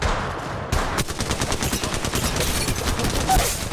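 Gunfire in the mobile video game Apex Legends Mobile, rapid automatic bursts rattling continuously at close range, loud and sustained with a sharp onset and no pauses.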